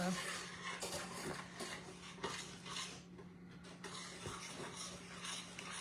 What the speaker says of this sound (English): No, I'll stir it on the stove.